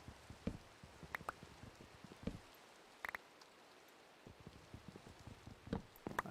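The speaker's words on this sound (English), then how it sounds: "I hear Minecraft rain and it's time to go." Rain in the video game Minecraft, a soft steady patter with scattered louder drop ticks, fairly quiet and continuous with no talk.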